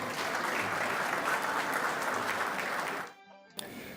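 Audience applause at a Moroccan Throne Day ceremony, a full steady clapping that stops abruptly near the end, followed by a brief pause and faint sounds.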